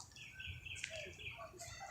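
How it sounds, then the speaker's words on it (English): Distant birds call outdoors in a few faint, thin chirps scattered over a quiet background. "Oh, I hear some birds somewhere."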